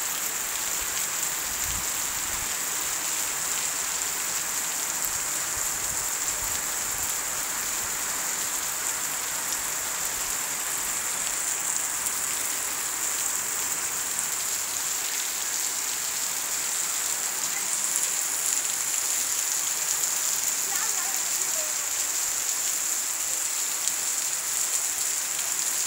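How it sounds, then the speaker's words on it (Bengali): Heavy rain pours steadily over a remote village, a dense, even hiss with drops drumming on surfaces, close and unbroken throughout with no voices. "বৃষ্টির সাউন্ড শব্দ অনেক ভালো লাগে।"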